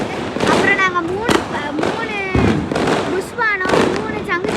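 Three Diwali flower pots and three ground chakkars go off together, giving a run of loud crackling bursts and pops close by, mixed with excited children's voices.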